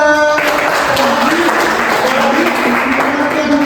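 Classroom applause from a group of students, a steady wash of clapping that starts after a brief spoken cue and carries on through, with voices faintly mixed in.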